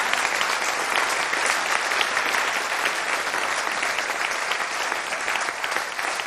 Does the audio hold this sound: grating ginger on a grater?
no